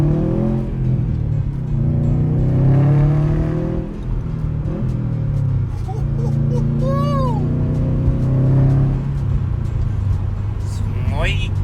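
A tuned Subaru STI, fitted with a Cobb tune, revs hard with a deep throaty engine note rising and falling through repeated pulls, loud and close, while people talk excitedly over it.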